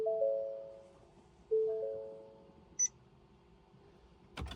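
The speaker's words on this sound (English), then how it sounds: "Ignition on. Let it ding a few times." A Ford truck's door chime dings with the ignition on: two clear sustained electronic tones, a short high beep, then a brief click at the end, all in a quiet cab.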